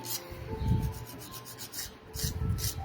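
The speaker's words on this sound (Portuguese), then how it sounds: "Revisão do lixamento." A nail file sanding an acrylic nail in a French manicure set, soft steady rasping strokes in close repeated bursts, quiet and with no talking.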